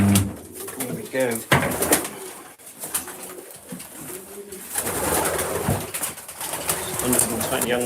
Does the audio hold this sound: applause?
no